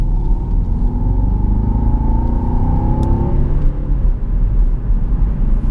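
A Jaguar XF 5.0 V8 S in sport mode gives a throttle blip, a loud, close, deep engine rumble that swells and then falls away over a few seconds, with steady low drone throughout.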